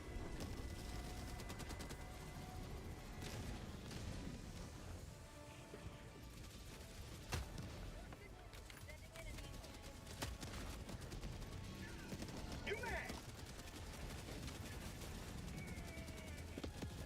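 Mortar and gunfire from a Helldivers 2 battle against bots, a steady barrage of dense blasts and crackling shots running under the whole stretch with a few sharper impacts.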